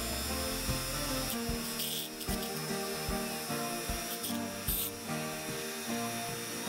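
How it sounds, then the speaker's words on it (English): A Dremel rotary tool grinds paint off a die-cast Matchbox 1967 Mercury Cougar toy car, a steady high whine with repeated short bursts and scraping contact as the bit works the metal, close and continuous throughout. "It's turning with the dremel."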